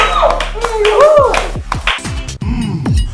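Studio audience clapping and cheering for a round winner on a food quiz show, sharp claps and whoops overlapping with a host's voice and ringing effects.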